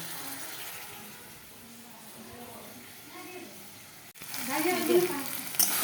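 Rice grains fry in oil in a pan, a soft steady sizzle running under low talk, growing louder and brighter toward the end as the grains are stirred.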